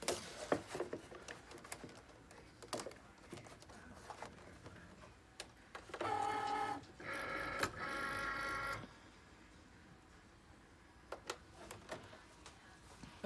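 A Cricut cutting machine cuts a stencil for glass etching, giving faint whirring motor bursts and ticking carriage movements with a louder buzzing stretch in the middle, recorded quietly at close range.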